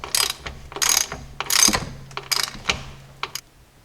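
A hand ratchet clicks in short bursts while a transfer case drain plug is tightened by hand, with several quick rattling strokes and pauses, close and clear.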